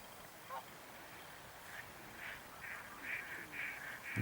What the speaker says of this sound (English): And there's the ducks up as well now.